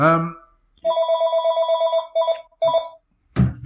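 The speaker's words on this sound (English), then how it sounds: "that's my phone ringing" A telephone rings in repeated electronic bursts, loud and close, with a person speaking just before and after the rings.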